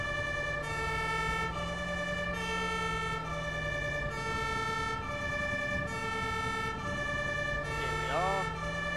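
Ambulance siren from the Emergency Ambulance Simulator video game, a steady repeating wail pulsing in regular bursts over low engine rumble, loud and continuous throughout, with a brief rising chirp near the end.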